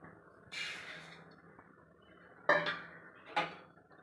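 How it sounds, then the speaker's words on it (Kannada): A quarter kilo of cumin seeds pours into a dry pan for roasting while making sambar powder, giving a few soft rattling clatters, one near 0.5 s and sharper ones near 2.5 and 3.4 s, over quiet background. "ಇವಾಗ ಜೀರಿಗೆ ಹಾಕೊತಾ ಇದ್ದೀನಿ ಕಾಲು ಕೆ ಜಿ ಜೀರಿಗೆ"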